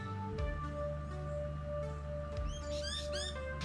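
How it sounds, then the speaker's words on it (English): A noisy miner honeyeater calls in a garden near a flowering grevillea, a few sharp chirps and squeaky notes toward the end over a steady background hum, fairly faint. "Here you can see a very noisy miner."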